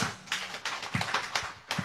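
Congregation clapping in a church service, irregular bursts of hand claps at moderate volume, with separate sharp claps standing out near the end.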